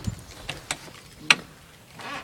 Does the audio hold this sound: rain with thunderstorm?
no